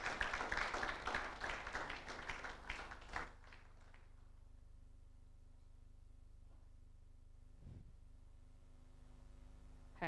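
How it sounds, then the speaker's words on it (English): Audience clapping at the CHAOSScon Africa 2023 conference as a speaker walks to the stage: dense, fairly close applause for about three seconds, then fading out into quiet room tone with a couple of isolated knocks. "And please clap for him while he makes his way to the stage."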